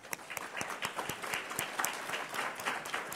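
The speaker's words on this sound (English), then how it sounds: "stand all over the room so we can give you a round of applause" Luncheon audience at an annual business event gives a round of applause, fairly quiet and distant, with individual claps standing out sharply in an uneven patter across the room.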